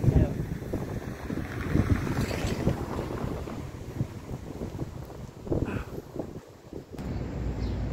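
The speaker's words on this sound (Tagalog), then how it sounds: "Mahangin kayo." Wind gusting hard outdoors in the UAE during a jog, a rough roaring rumble buffeting the microphone and rising and falling throughout, with faint speech under it.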